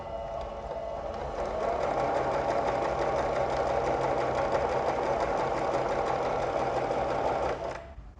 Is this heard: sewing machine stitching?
yes